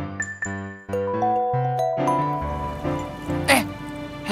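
A mobile phone rings with a bright, melodic chiming ringtone that steps through repeated tones, loud and close, with some voice and background sound mixed in toward the end.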